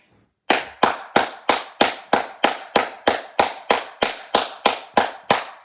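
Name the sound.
football team clapping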